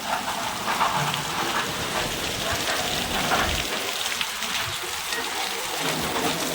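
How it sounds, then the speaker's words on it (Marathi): Heavy rain pours steadily and loudly throughout, a dense continuous hiss of downpour with no voices. "खतरनाक पाऊस आणि खतरनाक धुवादार पाऊस आहे"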